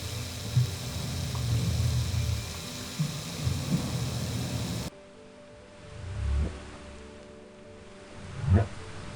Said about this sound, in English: that's the sound of a male harbor seal roaring because it's the mating season